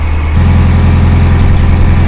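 An old narrowboat engine running, a loud, steady low rhythmic thump that picks up a slightly faster, heavier beat early on and then holds an even chug.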